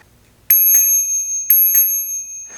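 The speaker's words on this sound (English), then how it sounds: "I've added a small bike bell on the handlebars to alert them of my approaching." Small bicycle bell mounted on Dualtron 3 electric scooter handlebars, rung in two quick double rings, bright and close, each ping ringing out clearly before fading.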